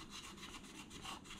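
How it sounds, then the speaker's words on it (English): A Scotch-Brite pad scrubbing a headlight housing for a 79 series Land Cruiser, a steady, close, raspy rubbing with repeated strokes and no talk. "I just used Scotch-Brite for most of it."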